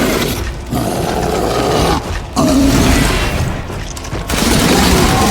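A flash grenade going off in the horror game Resident Evil Village, a loud booming blast amid continuous roaring combat noise with heavy rumbling bursts, no speech over it.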